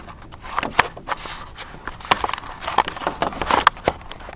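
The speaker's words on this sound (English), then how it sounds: "Only that camera can make that sound when you pick it up and rearrange it." Sony GC1 camera picked up and rearranged by hand, giving a string of small close clicks, taps and rubbing knocks at an uneven rhythm, with no talking.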